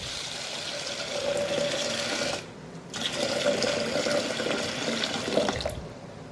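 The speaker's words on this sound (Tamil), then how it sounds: "தண்ணி 2 கப் அளவுக்கு ஊற்றிக்கலாம்." Water pours into a pressure cooker holding roasted cowpeas, a steady close splashing fill that breaks off briefly midway and then resumes.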